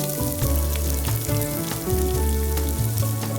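Diced onion sautéing in olive oil over medium heat, a steady close sizzle with faint stirring clicks running throughout, no talking.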